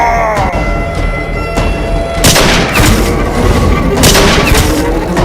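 Gunfire sound effect in an army zombie skit set at a border: loud, dense bursts of booming shots and blasts that swell midway and keep pounding without letup, with a low voice faintly underneath.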